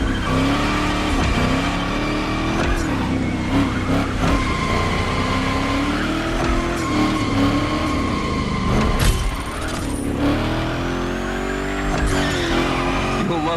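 Car engine in The Crew Motorfest gymkhana run, a Unicorn driven through big slides, revving loudly and steadily throughout with tire skids and squeals layered over the engine drone, a brief sharp screech near the end.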